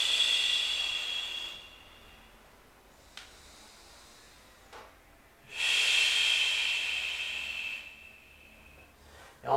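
A person exhales forcefully during a bar exercise, giving two long, breathy hissing blows separated by a quiet pause, close and fairly soft, with no talking.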